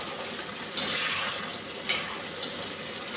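Water is poured into a pan of chilli chicken, a close gushing splash that begins abruptly and continues with a couple of brief surges.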